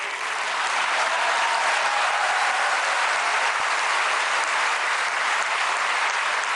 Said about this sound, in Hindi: तालियां कम हो गई।